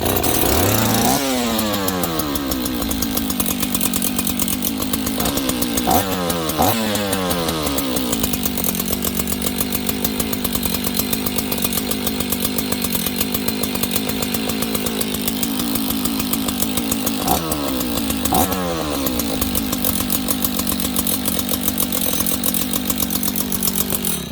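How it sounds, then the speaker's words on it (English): A Husqvarna 61 chainsaw pulls to life and runs loud and close, with several throttle revs rising and falling over a steady idle for the whole stretch. "so it starts, runs, idles, does all the happy things we want it to do"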